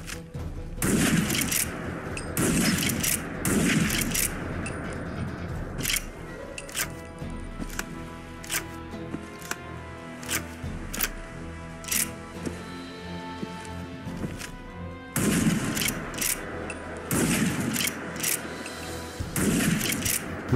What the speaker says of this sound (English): The next weapon is the Winchester 1887 lever action shotgun